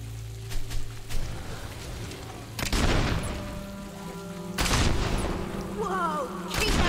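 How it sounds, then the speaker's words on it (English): Gunfire in Fable 2: three loud booming shots spaced a couple of seconds apart ring out over a low ambient hum, with brief noises in between. "Keep those shots coming!"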